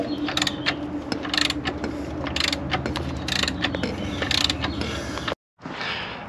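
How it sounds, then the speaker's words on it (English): A 19mm socket and wrench turn the engine crank of a Volkswagen Rabbit by hand through several revolutions, giving repeated close ratcheting clicks and mechanical creaks in an even rhythm before a brief pause and a final stretch. "let me throw our 19mm socket on that crank. Let's go through a few revolutions"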